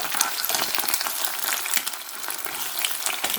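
Dense, steady sizzling and crackling of eggs frying in a pan, close and continuous with no talking.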